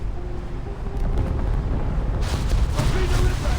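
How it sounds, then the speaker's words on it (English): In a naval video game a torpedo strikes a ship, giving a deep sustained rumbling explosion that swells and roars loudly for several seconds, with a voice heard over it. "Torpedo impact."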